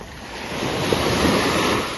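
Ocean surf washes steadily onto a beach at Havelock, a broad, continuous roar of breaking waves with wind buffeting the microphone, swelling slightly in the middle and easing toward the end.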